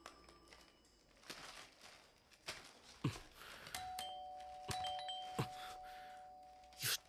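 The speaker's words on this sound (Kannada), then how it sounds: "ಕಾಲಿಂಗ್ ಬೆಲ್ ಶಬ್ದ ಕೇಳಿಸ್ಲಿಲ್ವಾ?" A doorbell rings indoors in a repeated ding-dong pattern, clear chime tones sounding twice and ringing out over a quiet room with faint rustling and crinkling in between.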